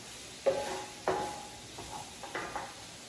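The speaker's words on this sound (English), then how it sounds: "my vegetables have been stir frying for about 5 minutes at the most" Vegetables being stir-fried in a hot pan, with a few scraping strokes of a utensil over a faint sizzle, close by.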